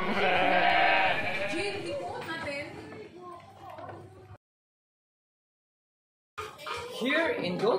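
Goats on a veterinary teaching farm bleat loudly and nearby, several overlapping calls filling the first seconds. A short silent gap follows, then more bleating returns.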